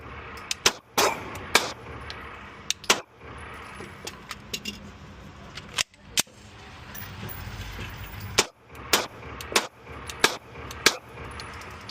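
Shots from a Canik MC9LS pistol at an indoor range: a series of sharp, close cracks fired at uneven intervals, some paired, over steady background range noise.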